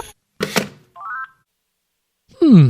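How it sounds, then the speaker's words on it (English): A telephone call is hung up: a short clunk of the handset, then a brief electronic tone, and finally a voice starting to speak. "He seems to put the phone down on himself."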